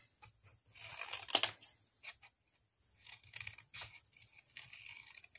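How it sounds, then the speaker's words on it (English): Scissors cut through a stack of two sheets of paper in short, close snipping and rustling bursts, quiet and separated by brief pauses, with no talking. "so I'm just going to cut these out"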